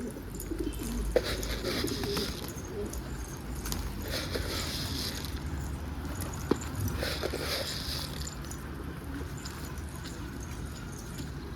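Soft, low coos of wild pigeons repeat in a few rounded phrases over a steady outdoor murmur, with occasional faint flutters and ticks.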